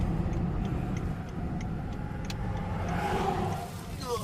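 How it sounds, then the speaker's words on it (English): A car drives north along a coastal highway in Florida, heard from inside as a steady, close road rumble and engine hum. Faint light ticks sound over it. "driving north along A1A right now"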